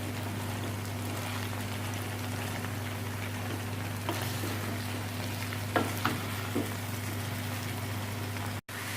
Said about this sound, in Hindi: गाजर, बंद गोभी। अब इसको मिक्स कर लेंगे।